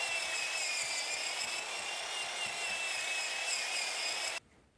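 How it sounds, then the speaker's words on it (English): A power drill fitted with a paddle wheel churns wet casting sand in a small 5-gallon bucket, giving a steady, loud whirring grind that runs unbroken for about four seconds before cutting off abruptly. "use a drill with a paddle wheel to stir it around."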